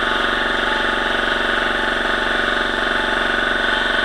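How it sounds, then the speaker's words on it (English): An air compressor runs in a tire shop, a steady close mechanical hum with a fast regular pulsing throb that holds constant throughout, with no voices. "Perfect time for the air compressor to go off."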